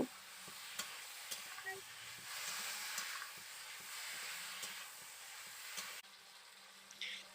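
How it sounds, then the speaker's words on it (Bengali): Potato and okra are stirred in spice paste in a pan, with soft continuous sizzling and faint scraping strokes of a spatula throughout, close and fairly quiet. "এবার দিয়ে দেব ভেজে রাখা আলু আর ভেন্ডিটা আলু ভেন্ডিটাকে মশলার সঙ্গে একটু কষে নেব"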